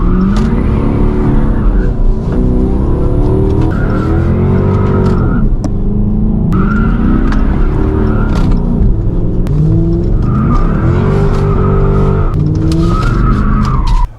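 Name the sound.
Dodge Charger sliding with tires squealing in manual mode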